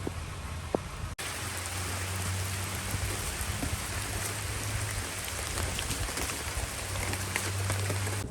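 Steady rain falling outdoors in a town, a dense even hiss of drops on surfaces that continues throughout, with a low rumble underneath and one brief sharp knock early on.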